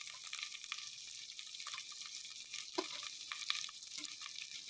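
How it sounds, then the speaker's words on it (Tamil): Onions sizzle in hot oil with mustard seeds, fenugreek and curry leaves for a garlic tamarind curry, a soft continuous crackle with scattered pops and small stirring scrapes, fairly quiet and with no talking. "அடுத்து வெங்காயம் சேர்த்துக்கிறோம்."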